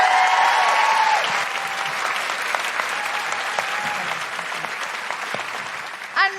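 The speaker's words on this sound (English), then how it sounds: "And a big round of applause for Michelle Ryan." Live audience at a podcast recording in Canberra breaks into a sustained round of applause, dense clapping that holds steady throughout before a brief louder burst near the end.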